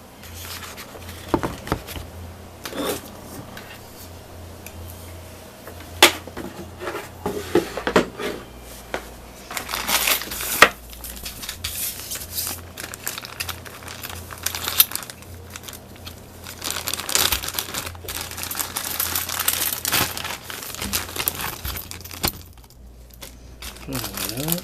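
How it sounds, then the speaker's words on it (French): A package being opened, its plastic wrapping crinkling and rustling in irregular bursts over a steady low hum, with scattered handling knocks and a voice talking at times, fairly close. "le temps d'ouvrir le paquet"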